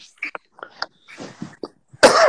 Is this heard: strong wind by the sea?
no